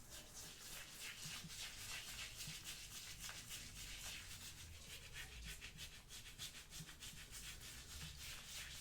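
Shaving cream is rubbed onto a wet neck by hand, giving a close, continuous soft scrubbing and squishing texture with rhythmic strokes, quiet and intimate with no talking.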